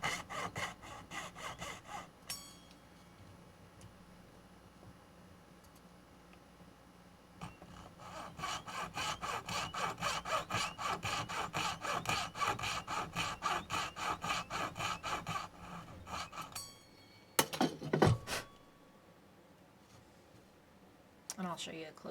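Rhythmic back-and-forth sawing as slices are cut into a metal tube for tube rivets, steady close strokes lasting several seconds, pausing briefly, with a sharp scraping clatter near the end.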